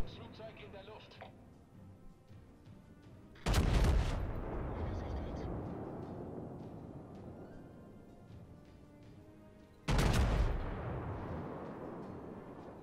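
Two heavy booming naval gun blasts in World of Warships several seconds apart, each a sharp loud burst that rolls off slowly, over a steady background of game rumble and ambience.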